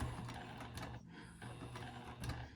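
A sewing machine stitching the seam of a double pocket wristlet clutch, a quiet, rapid mechanical whir that pauses briefly before running on, close by with no voices.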